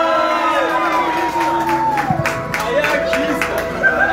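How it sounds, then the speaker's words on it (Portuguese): Crowd in a community gathering claps and cheers for a mother, loud and close, with whoops and shouting voices mixed into the clapping and people talking throughout. "Uma salva de palmas!"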